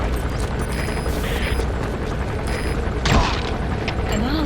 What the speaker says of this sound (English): Lay down suppressing mortar fire on the target.